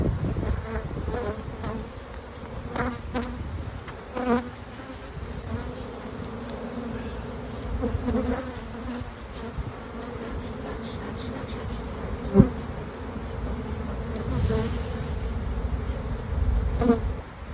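Honeybees buzzing around an open hive during colony splitting, a dense steady hum close by with individual bees flaring louder as they pass, occasional soft knocks of hive equipment.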